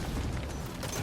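A grenade blast in Metal Gear Solid V, a dense, rumbling low boom sustained through a brief moment with no clear sharp onset, moderately loud.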